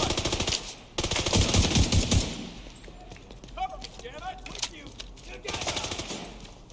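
Rapid automatic gunfire in the video game The Division 2, loud bursts in the first seconds, then scattered shots and effects under someone talking.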